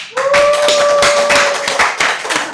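A church congregation at a Sunday afternoon Bible study claps in welcome, close and loud with distinct hand claps amid a steady run, and a brief voice or tone sounding over it.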